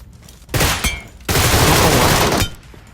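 Loud bursts of automatic gunfire in a PUBG Metro match: a short volley, a brief pause, then a longer sustained rattle of rapid shots before it stops.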